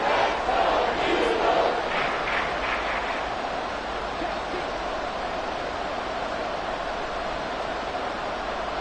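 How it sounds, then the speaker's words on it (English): A packed NFL stadium crowd at an Eagles versus Seahawks divisional playoff game roars steadily ahead of a big third down, a loud, continuous wash of cheering that swells briefly at the start. "the crowd getting into it as we come up on a big third down"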